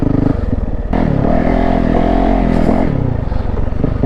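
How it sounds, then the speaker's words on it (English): A Yamaha YZ450F dirt bike engine accelerates hard, close and loud, with a steady rising roar, a brief gear change near the start and another shift partway through. "I just grabbed the gas and the bike just pulls"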